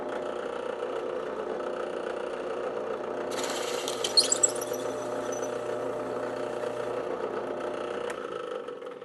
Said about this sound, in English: And now I can drill that hole out the proper size.